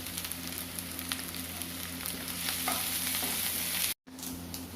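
Sliced onions sauté with salt in a hot pan as the base for a breadfruit curry, giving a steady, close, continuous sizzle that cuts out briefly near the end and then resumes. No one speaks.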